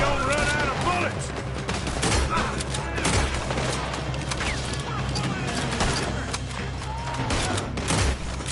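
Dense, continuous gunfire from a shootout in Red Dead Redemption 2, with rapid overlapping shots and booms over a loud battle din, and voices shouting amid the fire.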